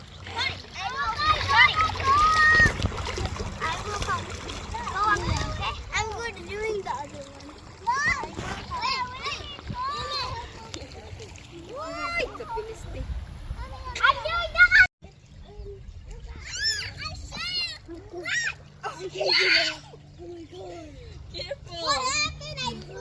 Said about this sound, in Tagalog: The kids are playing in the water right now.